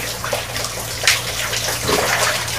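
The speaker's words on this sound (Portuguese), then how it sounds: "Então agora estou enxaguando de novo." Running water rinses hair during an at-home progressive straightening treatment, a steady close splashing wash with a brief louder gush partway through and no talking.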